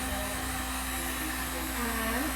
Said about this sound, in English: I'm just gonna blow dry a wee bit here and just show you